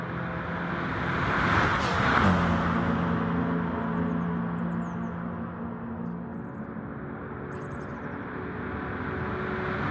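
Race cars on a straightaway in GT Sport at Le Mans, a steady loud engine drone with a rising then falling pitch as a car passes close, engines holding a sustained roar throughout.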